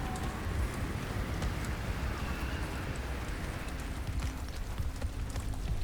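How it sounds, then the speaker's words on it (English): Wind and hail sweep across the icy surface in Subnautica Below Zero, a steady dense hiss and patter of pellets that holds at an even level with no speech. "Oh, the winds are blowing. It's cold out here, and the hail, so painful."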